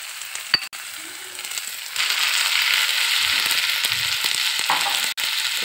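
Minced chicken for momo hits a hot pan and sizzles steadily and loudly, with a few scraping clicks at the start.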